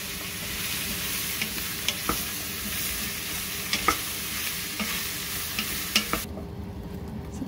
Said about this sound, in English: We'll add the zucchini and the yellow squash. Cook and stir those to brown them about 5 minutes or so.